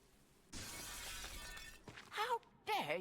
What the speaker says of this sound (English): How dare you smash my window?